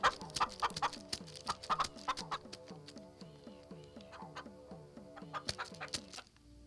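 A hen clucks in a quick, steady series of short notes, loud and close, slowing a little before stopping.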